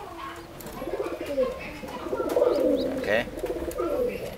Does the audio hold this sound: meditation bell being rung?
no